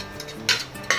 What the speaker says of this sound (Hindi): अच्छी तरह से मसाले में भाजी को मिक्स करेंगे